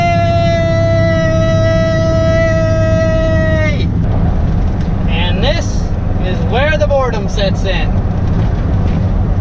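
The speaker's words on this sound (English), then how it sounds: "Driving by myself down the interstate, hearing the hum of the wheel" Car wheels hum steadily on the interstate, a loud continuous road drone from inside the moving car, with a sustained tonal whine early on and a person talking over it.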